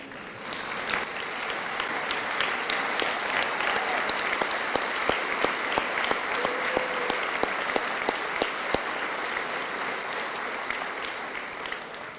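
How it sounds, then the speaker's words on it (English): A high school graduation crowd applauds steadily for several seconds, dense clapping with a few sharper claps standing out near the front. "let's give them a round of applause"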